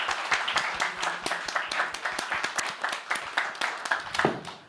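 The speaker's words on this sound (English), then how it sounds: "Please give everybody on the stage a round of applause." An audience applauds people on a stage with a brisk run of rapid, fairly even clapping that carries steadily through, moderately loud in a room, ending with a brief stray sound.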